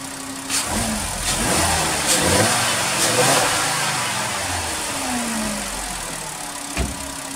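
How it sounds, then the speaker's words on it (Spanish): A car engine revs after a tune-up: a steady, loud mid-pitched drone with a few throttle swells rising and falling, close up with no talk. "vamos a darle un aceleroncito"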